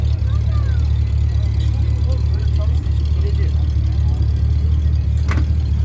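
A 1976 Pontiac Firebird Trans Am V8 runs nearby at a steady idle, a loud, low, continuous rumble with little change in pitch, while people talk over it.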